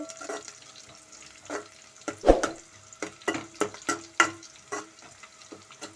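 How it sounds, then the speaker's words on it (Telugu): Onions and green chillies frying in oil for a brinjal curry are stirred in a pan, with a steady sizzle broken by several sharp scraping strokes of the spoon, close and fairly loud. "కట్ చేసుకున్న పచ్చిమిర్చి కూడా ఒకసారి ఇప్పుడు ఒకసారి కలబెట్టుకుందాము"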